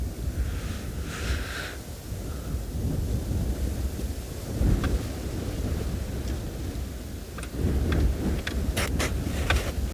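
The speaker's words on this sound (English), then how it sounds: "So it is quite windy here." Strong wind buffets the microphone in heavy, rumbling gusts on a South African safari, with faint higher rustles and a few brief clicks on top.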